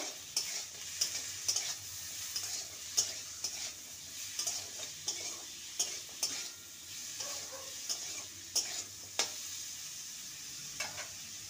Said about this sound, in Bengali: ঢাকা দিয়ে লো ফ্লেমে আলুটাকে ভালো করে ভেজে নেব